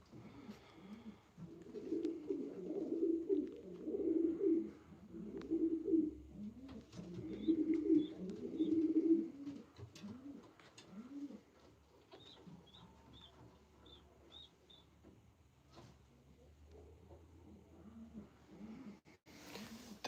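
Pigeons in a breeder loft give repeated soft, low, rolling coos in overlapping bursts, close and fairly faint, with a few quiet higher chirps and scattered thumps between them.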